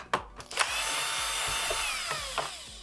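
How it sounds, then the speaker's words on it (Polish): A power screwdriver whirs continuously as it removes the grinder dome screws on a Nivona coffee machine, loud and close, with a few sharp clicks at the start. "Odkręcamy kopułę młynka."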